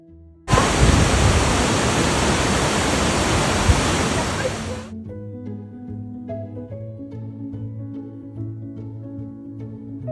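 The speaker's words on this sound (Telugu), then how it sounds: "మేము కొన్ని వాటర్ ఫాల్స్ చూసామని చెప్పాం కదా, అవన్నీ కూడా చూపిస్తాను చూడండి" A waterfall in New York State gives a loud, steady roar for about four seconds, then cuts off abruptly as music takes over.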